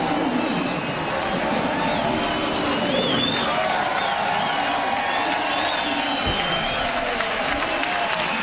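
A crowd at a NASCAR Busch Series qualifying session in Montreal cheers for Carpentier as he coasts to pit road, a steady wash of distant cheering and applause with no clear talk.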